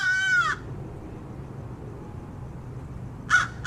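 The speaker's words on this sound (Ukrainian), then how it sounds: "Кидаємо камінь так, щоб попасти ворону." A crow caws in the video game Hello Neighbor: one harsh, loud caw at the start, a long quiet pause, then two shorter caws close together at the end. No one speaks.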